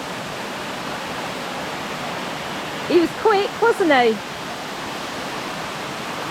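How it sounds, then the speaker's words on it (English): Steady broadband rushing of water pours from Secret Waterfall near Yala, Sri Lanka, a constant roar that briefly sits under a short spoken remark partway through. "so we're at the first waterfall,"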